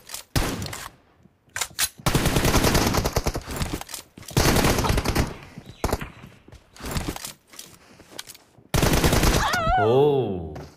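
Mobile shooter game gunfire played on an iPad Pro, with long automatic bursts and fusillades in several loud stretches separated by short pauses, and a voice speaking briefly among the shots.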